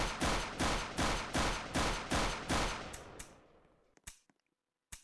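A gun test-fired in a first-person shooter game: about six evenly spaced loud shots in steady rhythm, each with a decaying tail, then a ringing fade and two isolated later shots against near silence.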